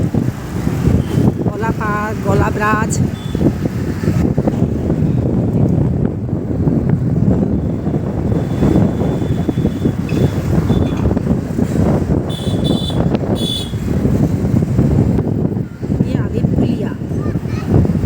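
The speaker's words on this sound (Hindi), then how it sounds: "ठंडी ठंडी हवा चल रही है" Cool wind blows steadily outdoors on the way toward Gaula park in Uttarakhand, a constant rumbling buffet against the microphone that lasts throughout, with someone talking over it.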